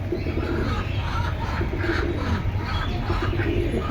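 Pigeons in a collection coo and rumble steadily up close, a dense continuous bird murmur with no talk over it.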